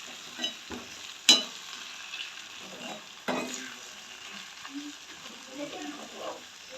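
Noodles with egg and vegetables turned in a hot pan, giving a constant soft sizzle broken by sharp scraping clicks of a spatula against the metal, close and with no voices.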